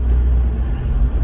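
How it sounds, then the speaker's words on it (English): An overlanding truck climbing a hill off-road, a loud close engine rumble holding steady with a brief surge near the end suggesting momentary wheel spin. "not only am I climbing the hill"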